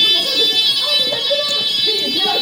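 A fire alarm rings continuously with a loud, steady electronic tone that holds without a break, while people talk over it.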